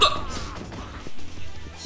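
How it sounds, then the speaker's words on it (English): Someone hiccups, a couple of short abrupt catches close to the microphone amid faint background sound. "Usually I only get hiccups when I either like eat a pretzel or"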